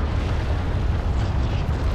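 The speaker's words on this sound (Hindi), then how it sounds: "यहाँ पर तो न्यूक धमाका हो रहा है" A nuclear blast in a modded Minecraft battle roars as a dense, continuous low rumble with a heavy booming undertone, steady and loud for the whole stretch, with no voices over it.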